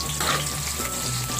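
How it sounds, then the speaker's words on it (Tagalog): Onion sautéing in hot oil for kare-kare gives a close, steady frying sizzle throughout the short stretch. "syempre unahin ko ulit muna ang sibuyas. Gigisin natin siya."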